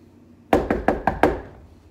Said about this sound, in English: I'm gonna knock on the door and see what he does.